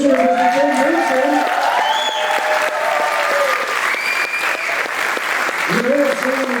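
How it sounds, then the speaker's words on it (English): Audience applause for two mayoral candidates at a runoff debate held in a vaudeville theater in Athens, Georgia: loud, continuous clapping with cheering, while voices speak over it throughout. "Give a round of applause, Mr. Dexter Fisher and Mr. Denson."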